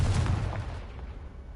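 Confringo blasting spell going off in Hogwarts Legacy, a loud booming blast with a rumbling burst that fades quickly.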